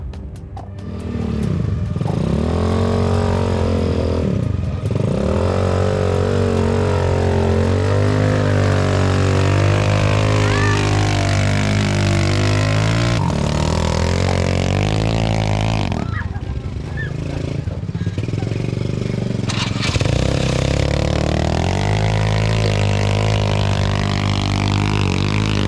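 A motorbike engine runs loud and steady near a river crossing in rural Cianjur, revving as it climbs a steep slope, with continuous mechanical drone and occasional surges.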